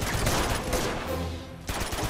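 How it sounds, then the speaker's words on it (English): Gunfire from the player's weapon in Uncharted 2, set in Borneo, shotgun and revolver in play: a dense run of rapid shots and echoing blasts filling the clip, loud and close, briefly dipping before a final burst. "this is where I'm actually gonna have to use my gun"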